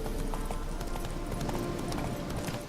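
Horse hooves clip-clop at a steady canter in The Witcher 3, a continuous rhythmic patter over ambient game sound, with no talking.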